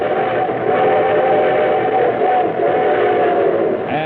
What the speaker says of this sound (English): here comes our star-studded show train